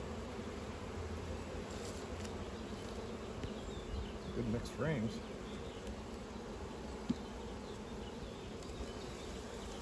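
Honeybees in an open hive keep up a soft, steady buzzing hum throughout, faint and continuous, with a brief spoken voice partway through.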